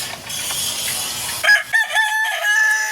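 A fighting cock crows nearby, its loud, strained call breaking out partway through and stretching to the end over a rough, noisy background.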